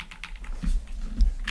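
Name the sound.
typing on Redragon Artemis K719 Pro keyboard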